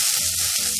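Chopped onion just added to hot oil with red chilli for a paneer and potato curry, sizzling in a steady, dense hiss up close.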